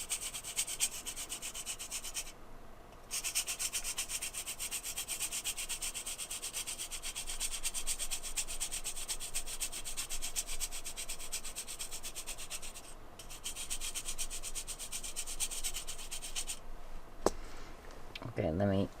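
Steady soft scraping of Staedtler and Koh-I-Noor watercolor pencil cores being grated, a continuous fine rasp with a few short pauses and a click near the end, faint and close.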